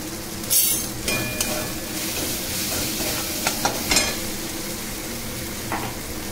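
Chicken kosha with spices is stirred in a frying pan, giving a continuous close sizzle broken by scraping strokes and a few metallic clinks of the spatula.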